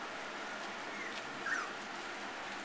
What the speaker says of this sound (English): And then the rest of the puppies are all Zaren's and Al's puppies.